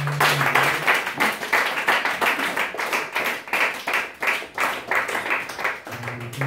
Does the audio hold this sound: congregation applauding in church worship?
yes